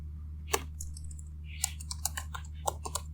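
Computer keyboard typing out a list of city names during a lesson, heard as scattered, sparse key clicks at close range over a steady low hum, with no talking.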